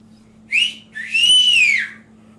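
A woman whistles two clear notes near the mic, a short upward chirp followed by a longer sustained arcing tone, over a faint low hum.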